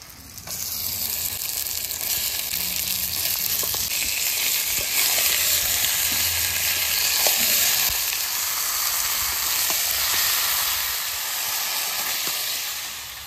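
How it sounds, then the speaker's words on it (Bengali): Chicken pieces frying with onions and spices in hot oil in a pan, a loud continuous close sizzle and hiss lasting throughout with scraping stir sounds. "এবার আমি চিকেনটা দিয়ে দেবো। দেখি কষানো দেবা।"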